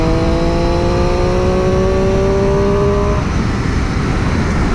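A Triumph Street Triple RS motorcycle revs loud and close with tonal engine harmonics that rise steadily, then the pitch drops away after about three seconds into broadband road and wind rumble.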